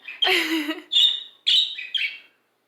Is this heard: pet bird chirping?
yes